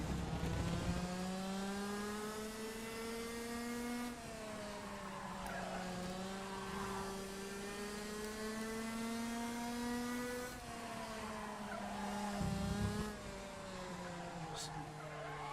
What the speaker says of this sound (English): I'm actually braking and accelerating at the same time, so I'm turning the kart while keeping the revs up